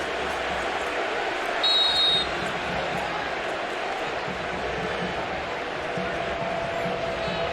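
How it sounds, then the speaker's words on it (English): A stadium crowd at a USA vs Germany football match gives a steady, wide roar that holds without a break, with a brief swell near the start. "But listen to the crowd right now"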